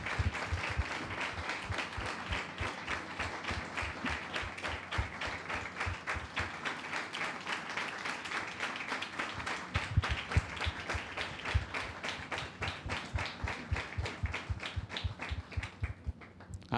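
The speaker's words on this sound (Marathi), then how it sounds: "टाळ्या वाजूयात." A church congregation claps along in a steady, even rhythm, many hands striking together in repeated beats that carry on at moderate level for a long stretch.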